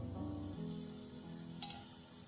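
A baingan fish curry with potatoes and fried eggplant simmers under a lid, giving a steady soft sizzle and bubbling hiss close by, with a faint clink partway through.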